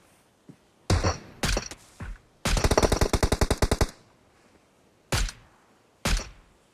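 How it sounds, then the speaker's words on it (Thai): Gunfire in the PUBG Mobile game: a few sharp single shots, then a rapid automatic burst of about a dozen rounds, followed by two more isolated loud shots, all close and loud with no talking. "ยิงทะลุต้นไม้น่ะ"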